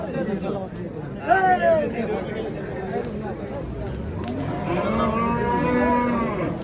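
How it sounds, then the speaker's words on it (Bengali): Cattle moo repeatedly at the Chandina cow market in Cumilla, with drawn-out calls rising over a steady hubbub of crowd chatter and livestock noise. "অনেক সুন্দর একটা গরু আজকের এই কুমিল্লা চান্দিনা গরু বাজারে"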